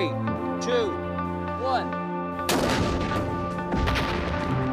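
A sandstone cannonball fired at a brick wall lands as one loud, sharp crash partway through, over a steady tonal hum and under ongoing talk.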